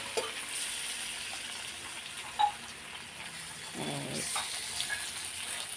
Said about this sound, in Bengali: আমি ভাজা ভাজা করে নিচ্ছি ডিমগুলো